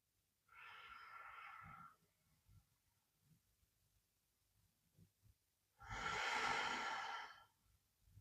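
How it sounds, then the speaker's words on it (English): Two slow, deep breaths during a yoga session, each a soft airy exhale standing alone against near silence, the second louder and longer than the first. "Let's just take 3 more deep breaths here."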